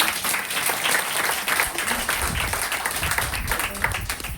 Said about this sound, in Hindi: एक ताली बजा दीजिए अपने।